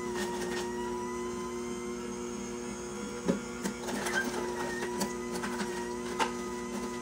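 An AMZCHEF two-speed slow juicer runs on its high setting while juicing beets. A steady motor hum is broken by scattered clunks and knocks as awkwardly shaped pieces are forced through.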